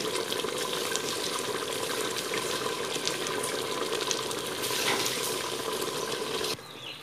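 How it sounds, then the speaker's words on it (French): Boiling water pours into a cooking pot of chakhchouka, a continuous rushing gush that runs steadily and then drops off near the end. "j'ai ajouté environ 1 litre d'eau bouillante"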